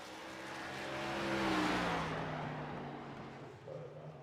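Race cars lapping North Wilkesboro Speedway in practice, engines droning with shifting pitch as one car swells closer around mid-clip and fades, steady loud roar throughout.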